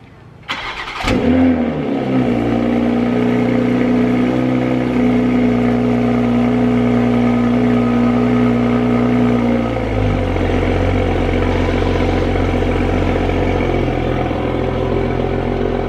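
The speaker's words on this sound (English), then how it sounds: "This is a cold start on a 2020 Toyota Supra" A 2020 Toyota Supra fires up from cold with a sharp starter crank and a loud rev flare, then drops into a steady, elevated high idle that settles lower near the end. The engine is heard alone, close and prominent.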